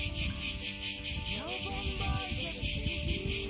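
Cicadas shrill in a pine park in Ermioni, Greece, a steady loud pulsing buzz filling the upper range throughout, with faint bird-like chirps and a soft rustle underneath.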